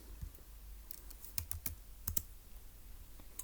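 Keys clicking on a computer keyboard in a few short, scattered taps and small clusters, close and quiet against a soft steady room hiss, with no talking.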